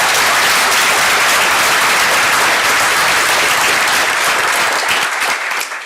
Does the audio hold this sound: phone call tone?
no